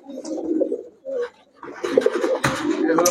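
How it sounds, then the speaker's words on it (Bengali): Racing pigeons coo in low, throaty bursts close by, with a brief pause midway and then overlapping calls, some rustling and faint higher chirps behind them. "প্রতিটা কবুতর খুবই সুন্দর একটা কবুতর"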